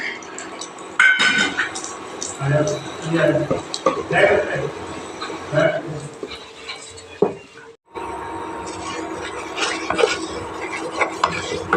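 Gram flour (besan) is stirred and roasted in a pan, giving soft scraping and clinking of a spoon against the metal, mostly steady, under continuous talking.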